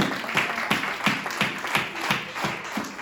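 A church congregation at a Sunday worship service claps in rhythm, producing steady, even, fairly close applause at about three beats per second throughout.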